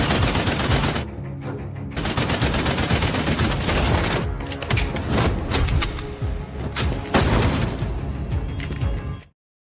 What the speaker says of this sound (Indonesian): ia membalas dengan tembakan kaliber dan membunuh semua anggota Babylon